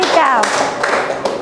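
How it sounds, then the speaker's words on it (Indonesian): Students in a classroom clap their hands together in a quick burst of sharp, close claps, heard over a voice speaking. "tepuk tangan"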